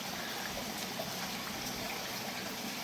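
Water sloshing and trickling steadily as a hand sweeps through an aquarium over a filter pad, with lucky bamboo roots in the tank; a continuous close wash of liquid with no break.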